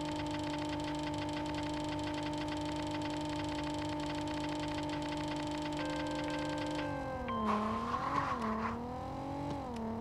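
A Mercedes-Benz C-Class DTM race car in the mobile racing game Racing Rivals holds a steady, buzzing synthetic engine drone. Near the end the drone shifts and wavers in pitch, and a brief burst of noise cuts in.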